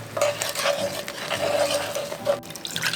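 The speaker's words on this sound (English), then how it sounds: "1 cup water." A cup of water poured into a simmering sauce of ketchup, brown sugar, soy sauce and vinegar, with a steady liquid splash and a faint sizzle from the pan over about three seconds.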